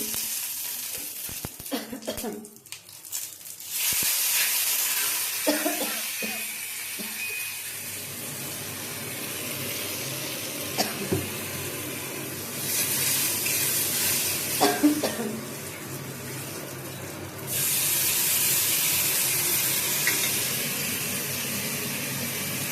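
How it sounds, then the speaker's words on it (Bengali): Bay leaf and whole spices for a moong dal with carrot hit hot oil in a tempering, producing a loud sustained hiss and crackle that swells and fades in waves, with occasional utensil clinks and no talking. "এবার এই যে ফোড়নটা দিয়ে দিচ্ছি এই যে ফোড়নটা দিয়ে দিলাম এবার এর মধ্যে দিচ্ছি তেজপাতা"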